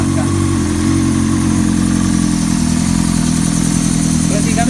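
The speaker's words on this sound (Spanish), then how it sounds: "Y ahí está la moto en marcha." Rebuilt Honda CBR 600 F4 motorcycle engine idling in a repair shop just after starting, a loud, steady, close mechanical drone with an even pulsing rhythm.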